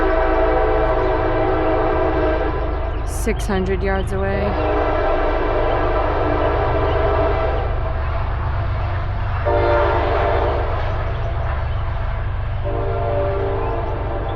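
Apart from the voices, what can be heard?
freight train horn passing Berkley crossing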